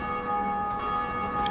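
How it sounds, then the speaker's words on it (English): A bell rings out in the video game Dark Souls, a sustained metallic tone with bright ringing overtones that hang steadily throughout. "So you heard that bell?"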